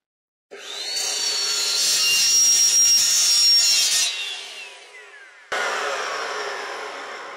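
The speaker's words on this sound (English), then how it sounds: "I'm going to cut an inch out of this shaft" A saw cuts through a metal shaft in a machine shop, a loud continuous grinding rasp that swells and fades over several seconds, stops abruptly, then resumes strongly, with no talking.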